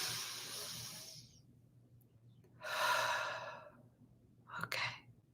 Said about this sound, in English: So breathe in and exhale